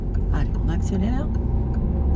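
A car accelerates in second gear during a driving lesson, with a low engine rumble running continuously beneath a person talking.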